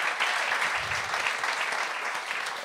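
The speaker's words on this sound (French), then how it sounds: "un tonnerre d'applaudissements pour Anthony Rimiard" A comedy show audience breaks into sustained applause, a dense, even roar of clapping at moderate volume that carries steadily from start to finish.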